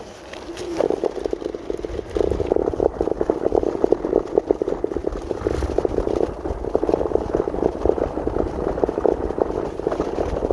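Rapid, irregular rattling and knocking of a loose battery bouncing on a vehicle deck, over a steady road rumble, continuous and fairly loud throughout.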